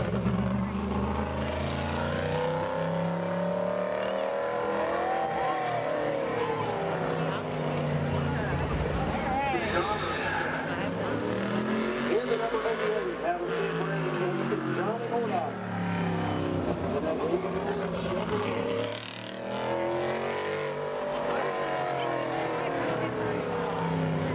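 A modified race car on a qualifying lap at Bowman Gray Stadium roars loudly throughout, its engine note rising and falling as it circles the track, with a commentator talking over it.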